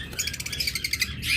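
A pair of pet birds, a creamino and a split blue, chirp close by in quick bright bursts of tweets that fill the whole moment without any talking.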